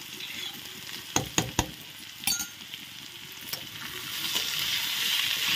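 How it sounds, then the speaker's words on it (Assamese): Garlic and ginger paste fries with potato and bitter gourd in a pan, a steady soft sizzle broken by a few sharp clinks of a utensil stirring against the metal, rising toward the end. "অলপ নহৰু আৰু আদা দিও অলপ ভাজিব"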